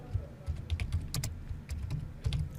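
Fingers type on a computer keyboard, a quiet irregular patter of clicking keys with short pauses, close but soft and free of speech.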